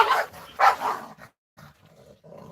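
A dog in close quarters barking and snarling: two loud, harsh barks close together, then quieter growling rumbles trailing off.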